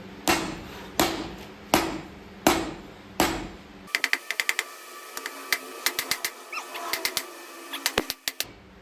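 Five heavy, evenly spaced hammer blows ring out, followed by a rapid series of lighter, sharper taps of varying rhythm, close by, while installing a locker in a Super Duty Dana 60 axle.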